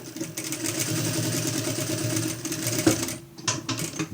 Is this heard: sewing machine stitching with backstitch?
yes